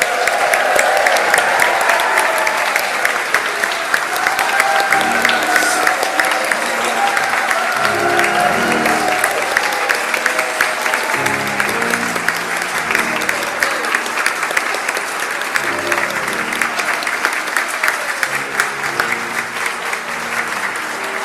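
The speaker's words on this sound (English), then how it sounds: "we invite everyone who joined in our fabulous rendition of A Christmas Carol to come on stage for a round of applause." A church congregation at a multigenerational Christmas service applauds the cast of A Christmas Carol with sustained, dense clapping that fills the room, while a few voices murmur underneath.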